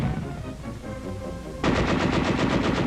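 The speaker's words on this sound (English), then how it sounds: "Under cover of machine gun fire, the field fortification is stormed." Machine gun fire during paratroopers storming a field fortification, starting as a distant rumble then breaking into loud, rapid bursts of close automatic shots that continue to the end.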